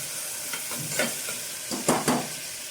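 Small onions sautéing in a pan, a soft constant sizzle with several quick scraping strokes of a spoon, close and unaccompanied by speech.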